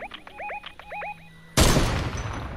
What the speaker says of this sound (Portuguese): Mentira que eu errei esse tiro.